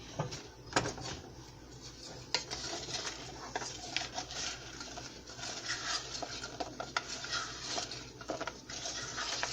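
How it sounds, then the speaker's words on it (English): Crispy fried tofu tossed in orange sauce in a pan or bowl, giving quiet irregular stirring, scraping and clinking with soft sticky patter throughout. "we're just gonna throw all of that in there and just toss it to coat it"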